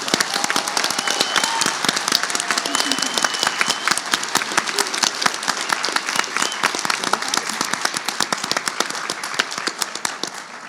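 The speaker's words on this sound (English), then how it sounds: "Let's give them a round of applause right now." Audience applause for young spellers at a regional spelling bee in Kentucky and Indiana, a loud, steady roar of many hands clapping that holds for about ten seconds with no talking over it.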